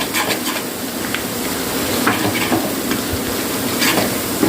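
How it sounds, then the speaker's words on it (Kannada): Masala for a fish tawa fry sizzles on a low flame, making a steady close hiss with soft crackles and occasional stirring scrapes, with no talk. "ಸಣ್ಣ ಉರಿಯಲ್ಲೇ ಇದು ಫ್ರೈ ಆಗಬೇಕು ಮಸಾಲೆ"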